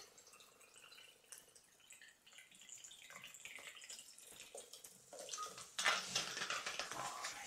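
Sparkling water is poured into a glass over a shot of Fernet, giving a soft steady fizz and splash that grows louder toward the end, with no talking.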